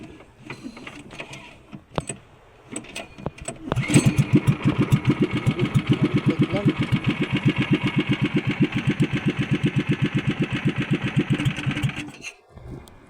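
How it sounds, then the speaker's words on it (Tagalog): A small engine clatters, catches after a few tries, then settles into a fast, steady chugging idle before cutting off near the end. "Magpa-andar po tayo para uminit kunti ang makina."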